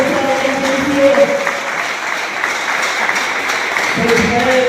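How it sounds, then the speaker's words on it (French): Audience at a political party gathering applauding, a sustained wash of clapping with a voice speaking over it at the start and again near the end. "je vais vous demander très fort d'applaudir pour le camarade André Manga"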